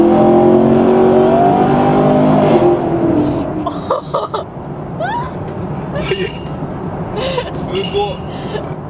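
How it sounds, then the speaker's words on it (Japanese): A powerful Chevrolet Camaro engine roars loudly as it accelerates through a tunnel, echoing in the enclosed space, then settles while people talk and react over it. "音がやっぱすごいわ、アメ車。"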